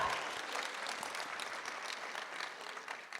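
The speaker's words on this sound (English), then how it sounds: "Let's give a round of applause to all the candidates up here." Crowd applause at a Navajo Nation presidential candidate forum in Shiprock, New Mexico, dense and continuous, slowly tapering over a few seconds.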